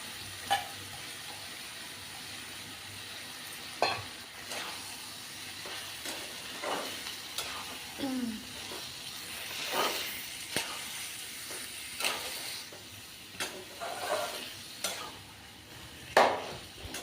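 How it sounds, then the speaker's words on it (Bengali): Marinated chicken for chicken rezala fries in cooked-down spices, giving a continuous soft sizzle and hiss broken by periodic scraping and stirring knocks, with no talking. "এরপর মশলা কষে গেলে তাতে ম্যারিনেট করা চিকেন ঢেলে দিলাম।"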